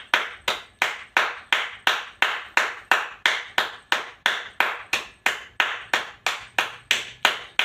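Two hands clap in a steady, even rhythm, about two sharp claps per second, each close and crisp with a short ringing decay and no voices.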